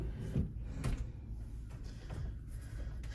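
A drawer-style safe in a cruise ship cabin is slid and knocked, giving a few soft thuds and scraping clunks at close range amid a steady room hum.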